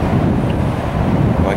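Wind gusting outdoors beside a parked Jeep at a campsite, buffeting the microphone as a loud, steady low roar that never lets up.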